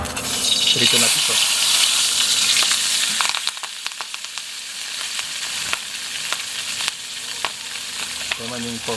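Food fries in hot oil in a pan with a loud, steady sizzle. After a few seconds it drops to a quieter crackle broken by stirring clatters.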